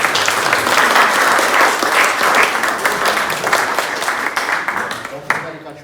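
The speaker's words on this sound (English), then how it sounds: "Don't forget you got your own applause." Applause from an audience at a book launch, a dense wash of many hands clapping steadily, then tapering off toward the end as a voice begins speaking.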